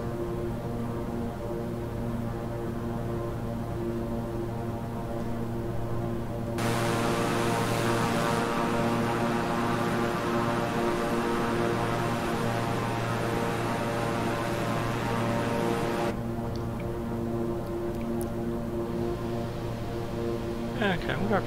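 A King Air 350i twin-engine turboprop drones steadily in flight in Microsoft Flight Simulator, a constant tonal propeller hum with layered harmonics that swells louder for several seconds in the middle before settling back.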